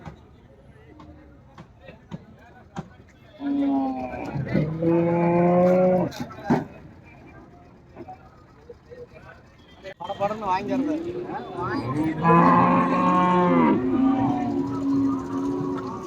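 Dairy cows low loudly at an open-air cattle market in Karimangalam, two long drawn-out moos close by, with people talking and market chatter around them.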